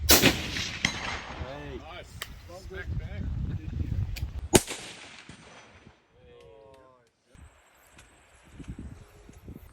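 Rifle shots ring out at target practice ahead of a red deer hunt in New Zealand: several sharp, loud cracks, including one standout near-field bang, mixed with outdoor talking and wind.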